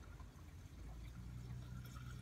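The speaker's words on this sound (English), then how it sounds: "just go ahead, fill up the windshield washer reservoir" Rain-X All Season 2-in-1 windshield washer fluid pours steadily into a car's windshield washer reservoir, a low, continuous liquid rush with a faint trickle on top, close by and with no voices.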